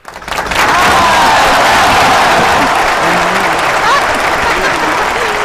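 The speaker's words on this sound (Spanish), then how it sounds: "Las palmas, chicos. Las palmas." An audience claps together in a dense, loud burst that rises quickly and holds steady for several seconds, with scattered voices underneath.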